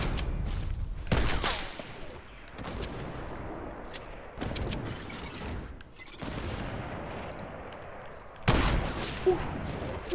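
Sniper rifle shots in a Fortnite match, several loud sharp cracks spaced a few seconds apart, each trailing into a short echoing decay over steady game background noise.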